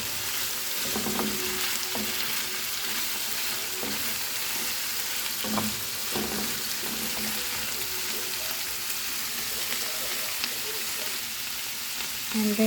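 Ground meat and vegetables fry with a little tomato sauce in a pan, a steady sizzle broken by several clinks and scrapes of a utensil stirring the mix.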